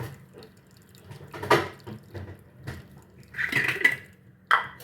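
Cold water is poured onto steamed sago in a kitchen vessel, giving a few short splashing gushes mixed with light clinks of utensils over a quiet background.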